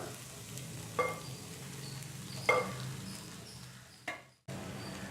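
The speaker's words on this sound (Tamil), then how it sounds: "இப்போ கொஞ்சம் கொஞ்சமாக அப்படி போட்டுட்டு கலந்துக்கோங்க" Rice being stirred into corn and fenugreek leaves in a pan for corn methi pulao, making a low steady sizzle with a few soft scraping clicks as the spoon moves.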